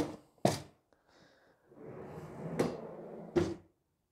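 A wooden workbench drawer slides out with a dull rolling rumble between sharp knocks as it bumps open and shut, close up in a quiet workshop.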